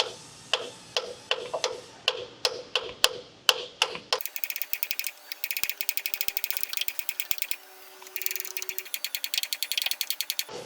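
Clamshell bushing for a Toyota Tacoma, 4Runner or FJ shift linkage driven into place with a bushing tool: about a dozen sharp, evenly spaced hammer-like taps, followed by a faster, denser run of clicking strikes.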